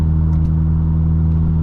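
A VW Golf GTI MK8 cruising at around 55 to 60 mph on a slightly snow-covered road, heard as a steady, loud low engine and road drone from inside the car, with no break and no voices.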